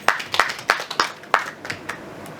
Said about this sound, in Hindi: दीक्षित जी के लिए जोरदार तालियां बजाइए